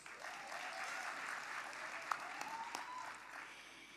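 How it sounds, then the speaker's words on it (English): Applause from graduates and guests at a university autumn graduation ceremony for the Faculty of Science and Agriculture, a soft, distant, continuous patter of many hands in a large hall. "Give yourself a round of applause."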